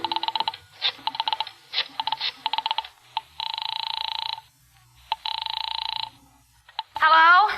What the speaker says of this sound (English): I found it and crawled over to it and started dialing my number.